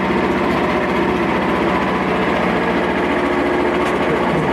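A Frontier sawmill's engine runs steadily at throttle while black cherry is milled into lumber, giving a continuous, even, close-up drone with no pauses.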